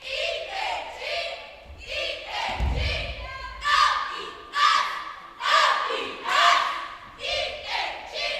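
Loud crowd at a competitive cheer semifinal roaring and shouting in repeated surges, with a heavy thud near the start, cheers rising and falling throughout.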